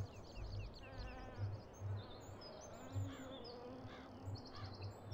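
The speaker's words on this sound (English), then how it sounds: "bees." Bees buzz in Farming Simulator 2017, a faint, soft insect drone with thin chirping bird calls scattered above it and a low pulsing hum underneath, quiet and without voices.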